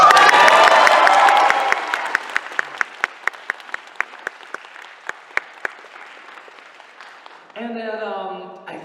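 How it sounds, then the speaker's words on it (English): A convention crowd at an Animecon Q&A in Finland bursts into loud applause and cheering that thins into scattered individual claps, before a voice speaks over a brief tonal sound at the end. "Applaud!"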